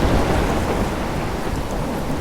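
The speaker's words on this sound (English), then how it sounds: "I'm trapped in a storm?" A heavy thunderstorm in the game Life is Strange, episode one, set near a lighthouse: loud, steady downpour with deep rumbling thunder filling the whole clip, and no voices.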